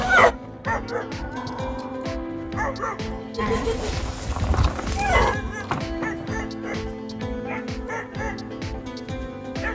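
A puppy yips and whimpers close by, with high whining cries mixed with short barks, under some background noise and occasional voices.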